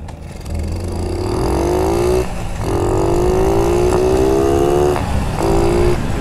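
A motor engine runs loudly and close, its pitch rising in several revving sweeps with short dips between them, no talking over it.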